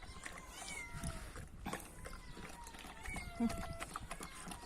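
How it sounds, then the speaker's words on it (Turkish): Hungry street cats meowing outdoors, several faint thin cries rising over a steady background hum with a person talking nearby. "Bak şimdi kediler de aç. Onlar da istiyor."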